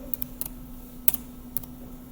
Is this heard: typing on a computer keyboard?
yes